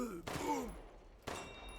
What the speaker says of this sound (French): j'ai tiré une fois